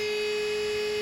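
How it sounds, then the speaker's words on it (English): A Detroit Diesel turbo oil pump keeps running after engine shutdown, pumping oil through the turbo bearings; a steady, even electric hum with a high whine on top, continuous and unbroken throughout. "That noise you can hear is the turbo oil pump."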